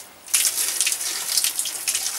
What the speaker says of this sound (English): The water coming out is a bit brown.